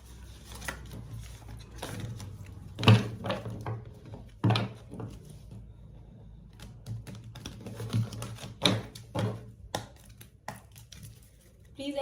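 A deck of tarot cards is shuffled close by, with repeated riffling, flicks and sharp taps in an uneven rhythm while someone talks quietly over it.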